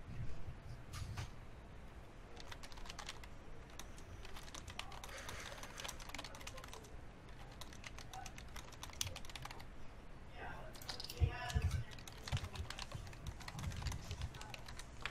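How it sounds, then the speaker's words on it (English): Keys clatter on a computer keyboard in quick irregular bursts, fairly close and soft, while a voice speaks intermittently over the typing. "I am typing something real quick to someone."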